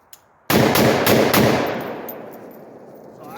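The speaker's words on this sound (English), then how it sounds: "Okay, so I'm gonna blast a couple rounds here." Single sharp rifle shot from a 16-inch Palmetto PA-10 AR, a loud close blast followed by a long echoing decay across open ground.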